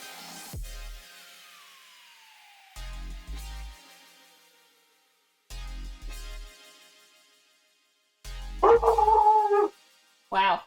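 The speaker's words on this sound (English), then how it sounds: "My dog just heard something. He's very upset today." An upset dog barks indoors in a few sharp, separated bursts, each ringing out briefly, with a longer, whining cry near the end.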